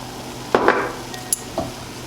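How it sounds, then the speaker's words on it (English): Quinoa flakes get stirred into boiling rice milk in a pot, a spoon scraping and clinking in a few short, close strokes over a soft background hiss of simmering liquid. "You just want to stir that together."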